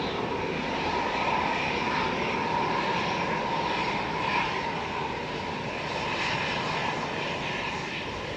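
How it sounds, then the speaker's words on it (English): A Lufthansa CityLine Airbus A319, registration D-ABGH, lines up for takeoff at Manchester Airport on flight 2503 to Munich, its engines giving a steady, moderately distant roar that holds even and unbroken throughout. "Lufthansa City lining up now. Flight 2503 to Munich, DAB GH and A319 ready to go."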